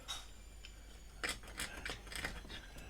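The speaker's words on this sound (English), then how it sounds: "it's just a matter of going along and scraping out this adhesive" Scraping tile adhesive out of the gaps in a ceramic mosaic table top, close-up gritty rasping strokes in short irregular bursts, with no talking.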